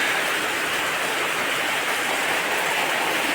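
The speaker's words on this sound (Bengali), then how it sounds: "খুবই বৃষ্টি রে" Heavy evening rain pours down after a long spell of hot weather, making a dense, steady hiss that stays constant throughout with no voices.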